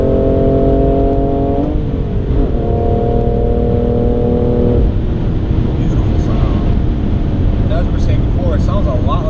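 A BMW M3 F80 Competition with an M Performance exhaust revs loudly and close by, its engine note holding steady, dipping, then rising again before settling into a rough idle.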